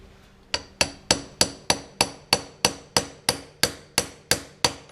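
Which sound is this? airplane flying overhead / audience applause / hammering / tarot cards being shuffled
hammering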